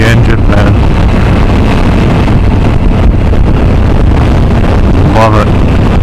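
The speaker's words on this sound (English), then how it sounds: "Great pickup, good torquey engine" A Suzuki V-Strom 1000XT motorcycle on a test ride, its engine a steady broadband roar buried in heavy wind rush over the microphone, loud and constant, with a brief rising whine near the end.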